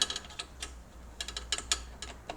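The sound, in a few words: tightening a bolt on Suzuki DR650 starter motor cover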